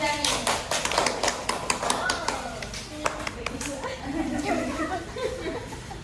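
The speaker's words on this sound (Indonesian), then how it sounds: "Tepuk tangan untuk Irzani" A classroom of children claps for a classmate named Irzani, a scattered burst of light hand claps with chuckles and a teacher's voice talking over and after it.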